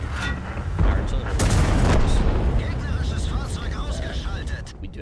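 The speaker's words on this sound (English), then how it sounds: "artillery is trying to pound me into pieces" Artillery shells pound a tank in World of Tanks, heavy booms and blasts rolling through a dense, continuous battle din with a louder burst near the middle, while a voice talks over it.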